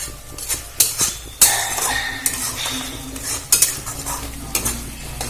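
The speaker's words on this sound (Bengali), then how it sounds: "আমি মশলাটা খুব ভালো করে কষিয়ে নেব" A metal spatula scrapes and clatters in a pan while spice paste sizzles and fries underneath, irregular clanks over a steady hiss, close and fairly loud with no voices.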